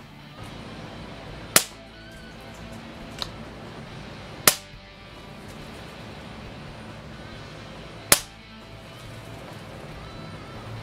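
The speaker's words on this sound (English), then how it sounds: "now we're going to do a, sound test on the Daystate Huntsman Classic" Daystate Huntsman Classic air rifle fired during a sound test, three sharp, loud cracks spaced a few seconds apart over a low outdoor hum with faint traffic.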